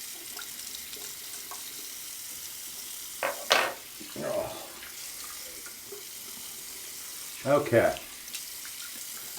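A tap runs as a razor is rinsed at a bathroom sink, steady faint water flow with a few louder splashing bursts as the blade is passed under the stream; someone speaks briefly.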